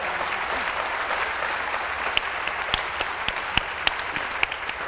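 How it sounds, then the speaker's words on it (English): An audience at a Radcliffe Day 2019 panel on food in America applauds the panelists, a dense, steady roar of clapping from a large crowd with a few sharper claps standing out. "we'll begin with a big round of applause for our panelists."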